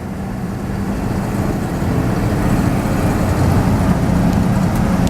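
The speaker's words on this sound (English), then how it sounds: "You hear that straight 6-cylinder. It's a 235-6 original motor in this truck" An original 235 straight-six engine in a Napco truck runs at a steady, even idle, a continuous close rumble with no voices.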